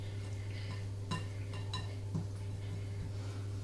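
Spoon scraping and clinking against a mixing bowl while wet ingredients are folded into a fruit scone mixture, giving soft scattered taps and knocks over a steady background hum.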